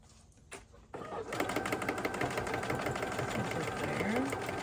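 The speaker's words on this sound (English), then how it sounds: "I like to do a back stitch a little bit, and then it secures your" A sewing machine back-stitching curtain fabric, starting with a few short bursts and then running in a steady, close mechanical whir with a rapid needle rhythm.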